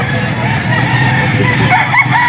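Chickens for sale at a livestock auction market in Lipa City cluck and crow loudly up close, a rooster-like call rising near the end over busy market noise.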